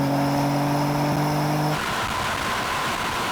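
A car engine in a drag race between a Mercedes-AMG C63, BMW M3 Touring and Audi RS4 Competition holds a loud, high steady rev against the limiter, then cuts abruptly into a rougher, broadband roar as the note drops.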